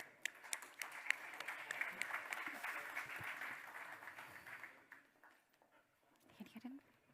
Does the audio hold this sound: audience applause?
yes